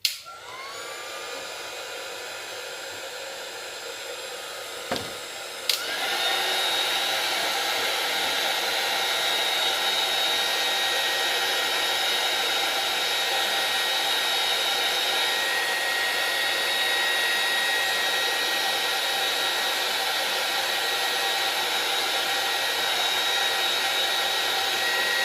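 A heat gun blows continuously over polyurethane resin, a loud steady hot-air roar with a brief click and surge as it starts up, then holding an even whine to the end.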